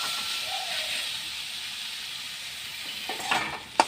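Greens sizzling in hot oil with garlic, a steady close hiss running throughout, with a few louder crackles and a sharp pop near the end.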